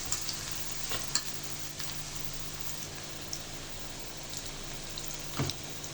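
Cabbage pakoras deep-frying in hot oil over medium heat, a steady soft crackling sizzle with occasional brighter pops, fairly quiet and continuous with no talking.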